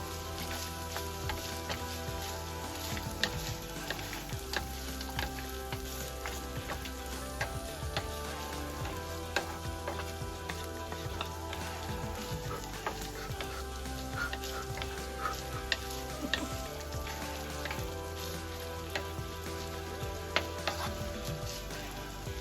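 Ground pork and vegetables with banana plantain stirred in a pot while simmering: a soft, steady sizzle and bubbling with scattered clinks and scrapes of stirring, fairly quiet and continuous throughout.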